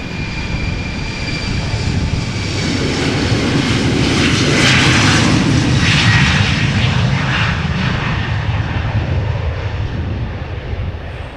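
A jet airliner departing Amsterdam Schiphol Airport roars steadily as it climbs out, a loud, broad engine rumble with a rising and falling whine that fills the whole stretch.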